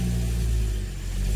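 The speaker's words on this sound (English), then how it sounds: "Car starting okay." A BMW N55 engine running just after starting, a steady low rumble with a slight surge and dip midway, close and loud with no talking.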